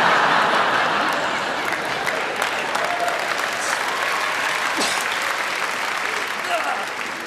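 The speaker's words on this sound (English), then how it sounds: "The first round of applause" An audience at a comedy festival gala in Melbourne breaks into loud, sustained applause, with dense clapping and crowd noise holding strong throughout before easing slightly at the close.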